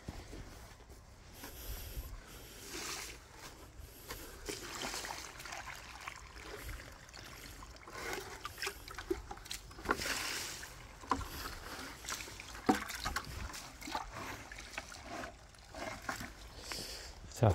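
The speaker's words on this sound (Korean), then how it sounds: "자, 물 한번 끼얹어 줘야겠어요." Water poured and splashed over vegetable plants in a garden plot, a steady irregular splashing and trickling that runs for the whole stretch, fairly close, with soft movement noises mixed in.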